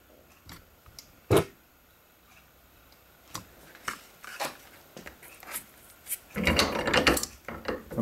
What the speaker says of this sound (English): So we get all our rivets in. I'm going rivet press here.